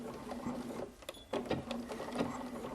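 A sewing machine runs a straight stitch on a vintage-style caftan, whirring in close bursts with a short pause in the middle before the motor picks up again.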